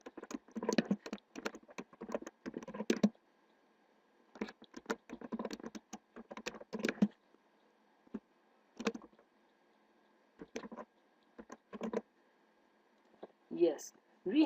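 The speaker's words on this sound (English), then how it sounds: "First type your school or college name here." Keys tapped on a computer keyboard while entering a school name into a Microsoft Excel 2007 sheet, coming in quick bursts of close clicking with short pauses between runs and a brief voice near the end.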